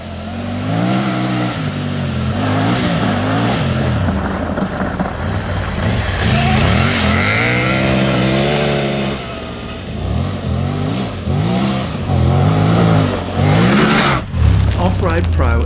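Triumph Tiger 900 Rally Pro motorcycle engine pulling off-road at low speed through gravel, a loud steady drone with rising and falling revs, a brief dip mid-ride and a hard surge near the end.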